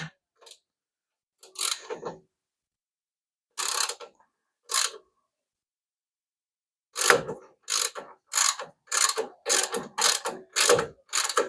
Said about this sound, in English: now I can pull the bottom shock bolt out.